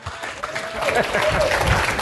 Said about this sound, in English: give a huge round of applause to Mr. Jason Hartman